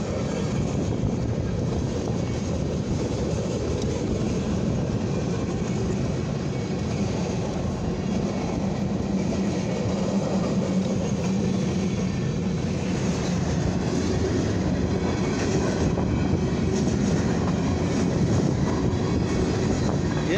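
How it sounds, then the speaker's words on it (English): A long two-unit CSX mixed freight train rumbles steadily past close by, with continuous wheel roar and metallic rattle from the cars, no talking. "This is a two-unit CSX with mixed freight train."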